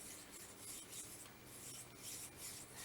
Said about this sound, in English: Bristle brush in the cleaner and then through each chamber like that.